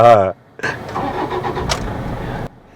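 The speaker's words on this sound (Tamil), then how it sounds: "இந்த ஸ்டார்ட் ஆகிற ஒரு சத்தம் இருக்குது நீங்கள் கேட்டிருக்கீங்களா இப்போ கேளுங்க" Toyota Innova engine cranking and catching after a short burst of voice, then running at a steady idle for about two seconds before cutting off abruptly; close to the microphone.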